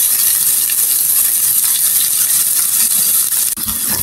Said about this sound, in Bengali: পেঁয়াজগুলি অনেক সুন্দর ব্রাউন কালার করে ভেজে নিয়েছি